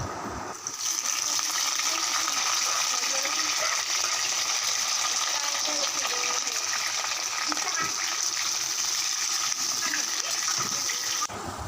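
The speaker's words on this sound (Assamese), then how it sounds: "এতিয়া মই কোমোৰা আৰু আলুবোৰ ভালদৰে ফ্ৰাই কৰি ল'ম" Pumpkin and potato pieces frying in hot oil in a home kitchen make a steady, even sizzle and hiss that lasts throughout at moderate level.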